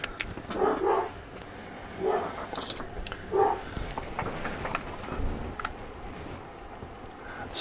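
Several excited dogs bark and yip in short bursts in a home, a few loud clustered barks with quieter gaps and low background noise between them.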